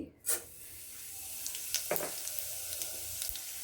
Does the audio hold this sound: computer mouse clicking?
no